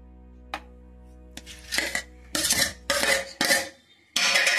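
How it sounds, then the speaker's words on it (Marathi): Mango pieces dropped into a container of homemade mango ice cream, giving a series of clinks and scraping knocks of a utensil against the container, irregular and close, with quiet gaps between. "आता यामध्ये आंब्याच्या फोडी टाकून देऊ"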